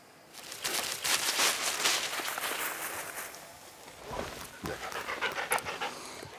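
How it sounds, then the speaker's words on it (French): Retriever dog panting hard while fetching a shot duck, rapid rhythmic breaths close up with faint rustling of movement, no talk. "Je prends un chien et je l'envoie sur le premier oiseau."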